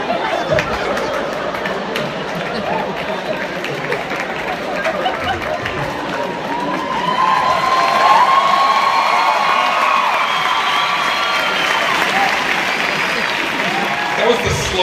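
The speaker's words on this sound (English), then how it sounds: "That was the slowest build-up to an applause break." Stand-up comedy audience gradually breaking into applause and cheering for the comedian, crowd noise building and growing louder midway, with whoops and chatter mixed in.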